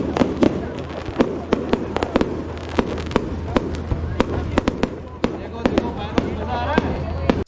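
Firecrackers bursting at an outdoor Diwali celebration, a rapid irregular string of sharp cracks and pops over a constant crowd murmur, loud and close throughout.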